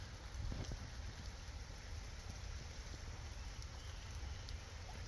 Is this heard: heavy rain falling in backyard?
yes